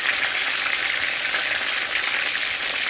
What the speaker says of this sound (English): When frying fish, I like to fry my fish dry.